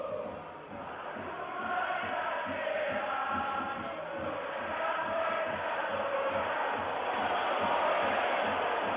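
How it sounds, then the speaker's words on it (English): Italian football crowd at a 1984 Roma match voicing displeasure, a dense, sustained roar of whistles and jeers filling the stadium, steady and loud throughout with slight swells. "the Italian crowd don't like it"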